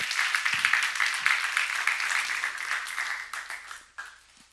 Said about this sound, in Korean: 박수로 하나 돌리세요